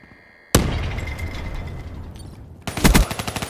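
A grenade goes off in Call of Duty: Black Ops 3 during a team deathmatch, a sudden loud blast with a long rumbling tail, followed by a burst of rapid, punchy gunfire close by.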